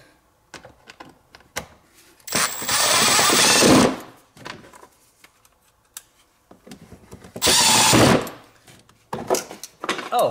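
A power driver runs Phillips screws into the plastic gearbox of a Peg Perego John Deere Gator ride-on toy: two sustained whirring bursts, the first longer, separated by light clicks and handling knocks.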